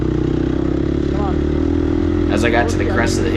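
Gas Gas EX250F dirt bike engine at a harescramble race, held at a steady high hum as the rider pops the clutch and throws the bike up a hill, loud and close throughout, with a brief voice near the end.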